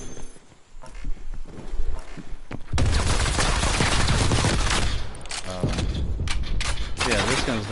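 Rapid automatic gunfire from Call of Duty Black Ops Cold War erupts after a quieter start, loud sustained bursts of shots with brief gaps, while a voice talks over parts of it.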